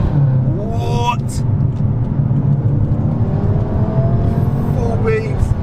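A cheap, broken BMW M5 drives on the road, its steady engine rumble and whir continuous throughout, with a couple of brief rising rev sweeps near the start and end and a person talking over it.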